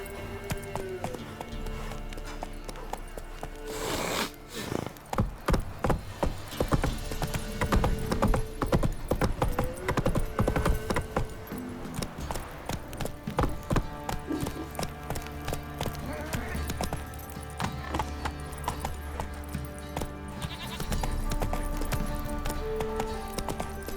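Hooves of Roach, Geralt's horse, clip-clop steadily in The Witcher 3: Wild Hunt, a rhythmic trot layered over game music and a low voice, with an occasional snort or whinny.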